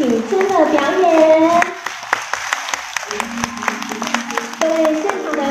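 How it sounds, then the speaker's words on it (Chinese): Audience applause at an indoor live sharing event, scattered clapping from a crowd mixed with a speaker's amplified voice and brief children's chatter. "请大家用热烈的掌声再次感恩品珍的表演"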